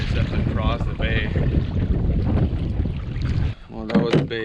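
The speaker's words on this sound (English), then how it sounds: "It's nice and windy on this next section here." Steady wind rushes and buffets across a bay during a solo canoe crossing on a multi-day wilderness trip, a continuous roar with brief gusts, with a short lull near the end followed by a few faint voice-like sounds.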